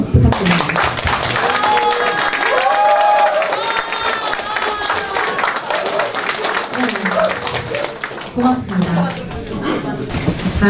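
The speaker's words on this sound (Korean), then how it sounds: "그렇다고 생각하시면 큰 박수 부탁드립니다." A crowd claps steadily at the opening ceremony of a National Assembly member's district office in Korea, a dense, continuous patter lasting the whole stretch while voices speak over it.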